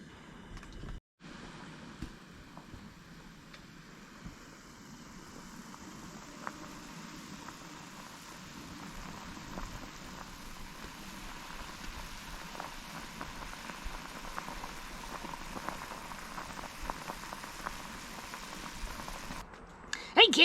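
Pumpkin soup comes to a boil in a pot at a campsite, a soft, steady bubbling and pattering that slowly builds in strength.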